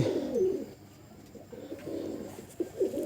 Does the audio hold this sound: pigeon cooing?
yes